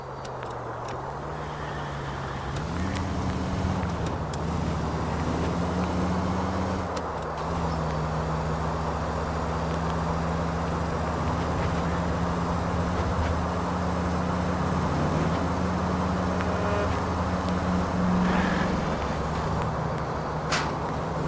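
A steady car engine in the video game LA Noire drones throughout, its pitch stepping up and down as it shifts, with low road rumble and no talking.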